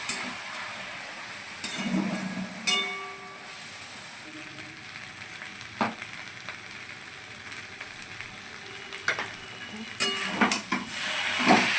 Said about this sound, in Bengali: সামান্য একটু জল দিয়ে একটু নাড়াচাড়া করে নেব।